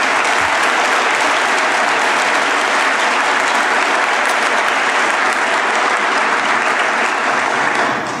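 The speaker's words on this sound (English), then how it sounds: "Would you please give them one more round of applause?" Sustained, loud audience applause fills a military community ceremony honoring service members, a dense steady clapping crowd that continues evenly for several seconds before easing slightly at the end.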